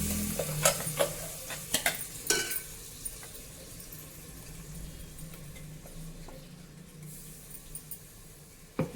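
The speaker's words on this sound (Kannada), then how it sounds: "ಸ್ವಲ್ಪ ಫ್ರೈ ಮಾಡೋಣ ಕೆಂಪಾಗೋವರೆಗೂ" Onions sizzle steadily in a hot pan while frying for chana sambar, with sharp clinks and scrapes of a spoon stirring near the start and occasional taps later.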